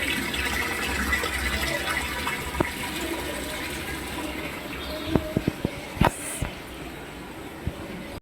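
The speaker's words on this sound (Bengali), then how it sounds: "হ্যাঁ, এই তো জল আসছে।" Water pours steadily into a small drum, a continuous rushing fill near the listener, with a few sharp knocks and clicks toward the end and no voices.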